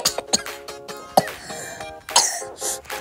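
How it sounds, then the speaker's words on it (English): Several short coughs and throat clearing from a person with strep throat, sporadic and close, separated by quiet gaps with faint clinking in the background. "I'm gonna be coughing a lot"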